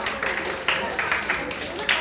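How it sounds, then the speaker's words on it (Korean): Children at a Korean church Sunday service give a dense, hissy burst of applause with uneven swells, heard close and steady with voices underneath. "우리 다시 한번 좀 박수해 주시겠어요?"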